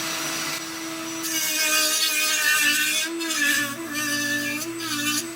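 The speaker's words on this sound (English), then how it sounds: "This is just a 60-grit sanding." A whining power tool doing 60-grit sanding on a Nike Apache, steady with short surges and dips, close and continuous.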